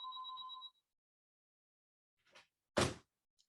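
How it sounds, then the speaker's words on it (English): Office telephone ringing with two short electronic trill tones, followed after a pause by a few clicks and a sharp handset or door knock, all fairly faint in a quiet room. "So excuse the phone call."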